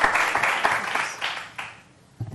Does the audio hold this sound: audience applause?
yes